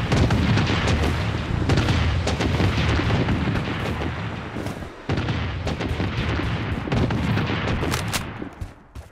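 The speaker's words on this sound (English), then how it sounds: "Missile bombardment on its way." Missile bombardment in the shooter Blood Strike: dense, loud, continuous rumbling explosions and booms overlapping for several seconds, with a brief dip midway before the barrage resumes.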